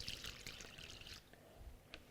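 Water poured into a chocolate cake mixture in a home kitchen, a steady close trickle and splash lasting about a second before tapering into quieter clinks and faint handling noise.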